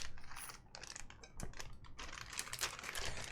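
Typing on an LZ Physix mechanical keyboard fitted with SOHO switches, a quiet, steady patter of clacky keystrokes close by, with no voices.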